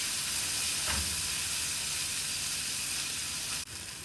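Roasted ground spice paste for dum aloo fries in oil in a pan with a steady, dense sizzle lasting throughout, close and even, broken by a brief stir or clatter near the end.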